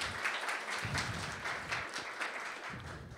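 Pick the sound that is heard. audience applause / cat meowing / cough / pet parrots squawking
audience applause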